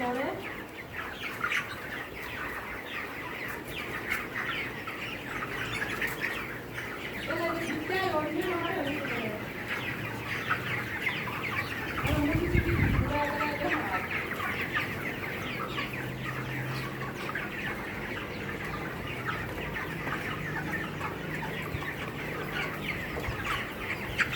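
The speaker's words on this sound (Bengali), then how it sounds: "মুরগিগুলো কিন্তু ঠান্ডা পানি দেওয়ার সাথে সাথে কিন্তু খাবে" Hens on a small hobby poultry farm in hot weather cluck and chatter steadily for about twenty-five seconds. The clucking sits over a constant hum of fans and background noise, with a few louder calls standing out near the middle.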